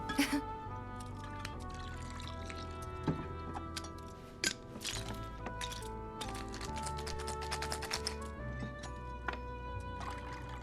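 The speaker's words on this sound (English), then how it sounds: "Did she just pour one ingredient into a shaker and then shake it up?" In the Final Fantasy VII Remake video game, a bartender pours a single ingredient into a cocktail shaker and shakes it. The clicks and liquid sounds sit over steady background music.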